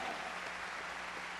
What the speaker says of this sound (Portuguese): Pastor Vladimir, palmas pra ele aí, moça!